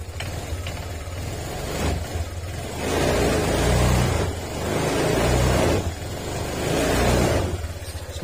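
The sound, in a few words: Honda Click 150 scooter engine revving after overhaul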